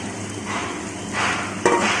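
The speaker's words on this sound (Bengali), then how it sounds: "এবার আমরা এর মধ্যে দিয়ে দিচ্ছি ভেজে রাখা বেগুনগুলো।" Fried eggplant pieces tipped into a spice mix in a hot pan bring a swelling sizzle and a sharp hissing burst, near and loud with no talking.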